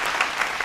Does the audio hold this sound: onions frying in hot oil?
no